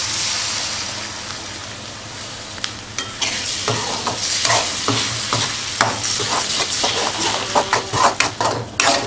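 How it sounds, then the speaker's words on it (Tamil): Eggs fry and are stirred with curry masala powder in a pan for egg rice, a steady sizzle with repeated scraping stir strokes growing busier toward the end, no talking. "எல்லாம் வதங்கிடுச்சு, முட்டை ஊற்றிக்கலாம்."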